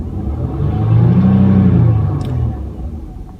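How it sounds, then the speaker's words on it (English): A car engine revs up and holds at higher RPM before easing back, a loud close rumbling drone during a vacuum leak diagnosis. "Now as I rev on the engine"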